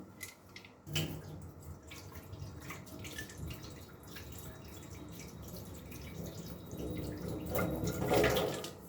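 Leftover dirty water poured away from a bowl splashes and trickles at a home sink, quiet with a sharper splash near the start and a louder gush near the end.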